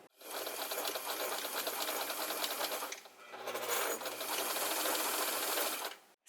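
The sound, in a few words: sewing machine stitching fabric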